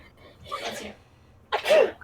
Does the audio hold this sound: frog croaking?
no